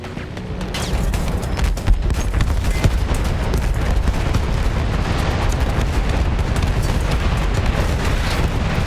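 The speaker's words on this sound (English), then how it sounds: "Stop bombing me." Bombing and artillery explosions from the Battlefield video game, a dense, continuous barrage of loud booms and gunfire-like blasts rumbling without pause throughout.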